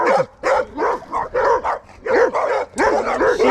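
Two dogs, one a dogo, bark repeatedly nearby along a trail, a steady run of loud, overlapping barks with brief gaps and no speech.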